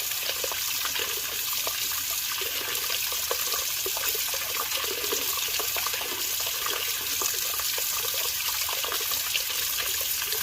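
Hot water runs steadily from a tap, used to soften a plastic part while restoring a 1971 Plymouth Cuda; a continuous, even rushing flow with no pauses and no talk.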